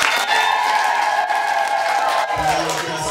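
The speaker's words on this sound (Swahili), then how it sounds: "Makofi na vigelegele." A church congregation at the opening of Saint Michael's chapel in Kanyamika, Ngote parish, Muleba, bursting into applause with high trilling ululation, a bright sustained wall of clapping and cries that eases near the end.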